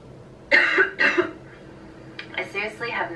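Two sharp coughs close to the microphone, followed by a person speaking.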